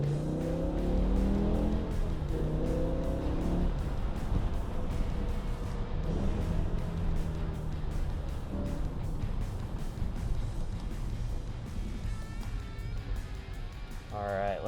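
Stock 2006 BMW E60 M5 with its V10 engine driving, a continuous close engine drone rising and falling with acceleration and a brief rev near the end, with someone talking over it.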